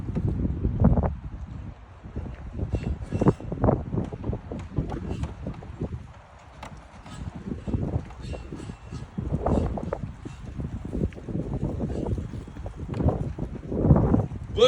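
Strong windstorm gusts under a wind advisory in Lewis Center, Ohio roar steadily across the microphone, swelling and easing in loud, buffeting waves with no one speaking.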